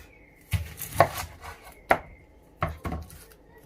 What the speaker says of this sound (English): Chop off from here, chop it in half.